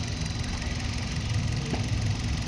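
A 2022 Maruti Suzuki Dzire VXI petrol car sits with its engine idling, a steady, fairly quiet low hum with a faint even vibration, no voices over it.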